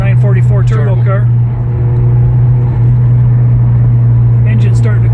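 A 1986 Porsche 944 Turbo's engine hums low and steady from inside the car on a test drive, with someone talking over it.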